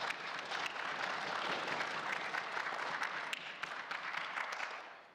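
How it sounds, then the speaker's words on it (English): Sustained applause from members seated in a legislative assembly chamber, a dense steady wash of many hands clapping at an even level for about five seconds and tapering slightly at the end, with no voices over it. "I think we need to give them a big round of applause."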